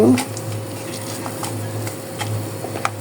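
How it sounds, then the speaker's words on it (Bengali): Panch phoron, garlic and whole dried red chilies frying gently in pure mustard oil for a raw mango pickle, a soft close sizzle with light ticking crackles and faint stirring over a low hum. "এখানে দিয়ে দিব কিছুটা পাঁচপুরন রসুন আর আস্ত শুকনো মরিচ দিয়ে হালকা একটু ভেজে নিব"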